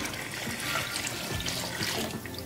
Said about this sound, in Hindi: अब मैं इसमें पानी डालूंगी इसको शोरबा बनाने के लिए।